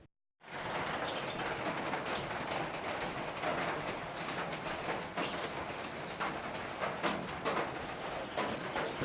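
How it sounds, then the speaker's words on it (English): A steady patter of rain on a roof in Panama fills the scene, with faint birds calling in the distance. "that is the sound of rain pattering on the roof and birds chirping in the distance"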